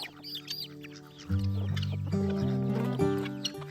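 Several chickens cluck close by, a run of short, soft clucks and murmurs, with a few louder calls rising over a warm, busy background.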